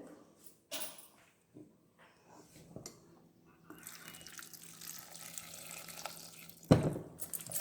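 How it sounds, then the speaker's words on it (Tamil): Water splashes and trickles into a pressure cooker in a kitchen while cooking mor kuzhambu, a steady pour with a few clinks and bumps, close by and moderately loud. "தண்ணி ஊற்றுறேன்"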